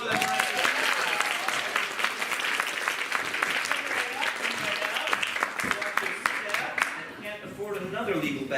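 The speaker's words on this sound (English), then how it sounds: "Let's have a round of applause for them." Audience applause for stage volunteers at a holiday watch party show, a dense sustained wash of clapping filling the room for several seconds, with voices and cheers heard through it.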